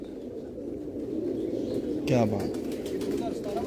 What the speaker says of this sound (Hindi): ये भी ये मिस्त्रियों वाला कबूतर है